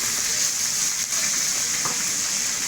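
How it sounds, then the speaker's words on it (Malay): Shallots and garlic sizzle in a hot pan with an unbroken, hissing, rain-like crackle that stays loud and even throughout. "Okey, kita tumis ni"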